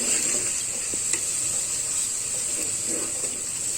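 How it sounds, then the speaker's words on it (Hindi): Ginger garlic paste frying with onions and green chillies in a pan for Hyderabadi daleem, giving a steady close sizzle with faint stirring scrapes and no talk. "अदरक लहसुन के पेस्ट को अच्छी से भूनेंगे।"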